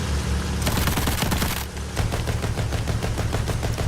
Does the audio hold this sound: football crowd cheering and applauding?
no